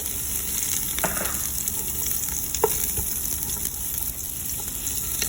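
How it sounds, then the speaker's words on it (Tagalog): Garlic and onion sautéing in oil in a pot, a steady close hiss of sizzling with a few soft stirring clicks and no voices. "Tapos igisa natin ang bawang. Pag nagisa na ang bawang, isunod natin ang sibuyas."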